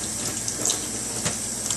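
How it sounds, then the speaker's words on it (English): Warm tap water running steadily into a sink while glass canning jars are washed with a soapy cloth, a close, continuous hiss and splash with faint clinks, and no talking. "To wash my jars, all I do is put a little bit of soap on my cloth, warm water"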